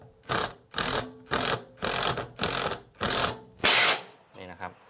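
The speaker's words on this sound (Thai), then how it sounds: "เสียงของบล็อกจะเป็นแบบนี้นะครับปึ๊บปึ๊บปึ๊บ" An OSUKA OSID-520 cordless impact wrench rattles in short, evenly spaced bursts, about seven in a row, close up, ending with a harsher louder burst and a softer tail.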